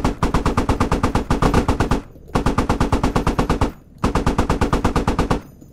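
Sustained automatic gunfire in the video game Squad, three long bursts of rapid, evenly spaced shots, loud and close, separated by brief pauses.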